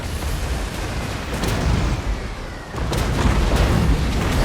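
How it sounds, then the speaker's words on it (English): Heavy cannons on an artillery-heavy Total War: Warhammer battlefield boom in dense, overlapping blasts, forming a loud continuous rumble of gunfire and explosions with no voices. "even the bloody great cannons from the rear are hitting him point blank as well"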